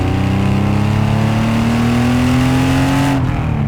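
An RWB-modified Porsche 930 holds a loud, steady engine rev close by, its note climbing slightly before cutting off abruptly near the end.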